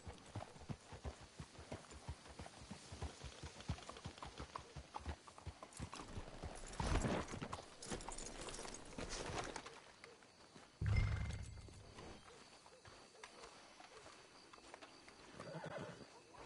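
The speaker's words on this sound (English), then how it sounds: "Let's hitch your horses up ahead." Horses in the Red Dead Redemption video game clop along steadily at walking pace, then one neighs loudly, with a later louder snort or whinny against quiet background ambience.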